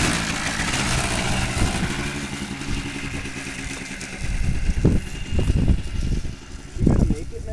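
A quad bike engine runs loud and close, then revs up in bursts as the machine pulls away, with people talking over it.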